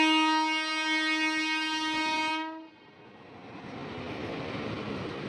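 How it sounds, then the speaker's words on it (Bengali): The Barbil–Howrah Jan Shatabdi Express sounds a long, loud horn blast that cuts off partway through, then the train's rolling rumble carries on close by to the end. "এদিক দিয়ে সম্ভবত এখন আসছে বড়বিল হাওড়ার জনশতাব্দী"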